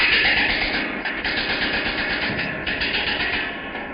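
Compressed-air tool rattling loose a bolt on a Golf R during a bigger-turbo and exhaust build, a loud, steady hissing buzz that runs unbroken for the whole stretch with only slight dips in intensity.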